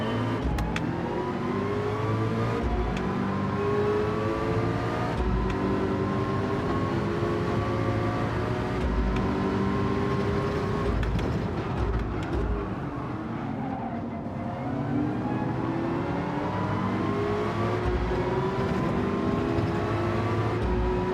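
Racing cars, including a quick Porsche, run together in a racing video game, several engines whining and rising through the gears in overlapping sweeps, with steady loud revving and brief dips on downshifts.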